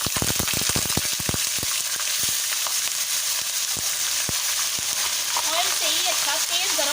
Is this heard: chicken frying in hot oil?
yes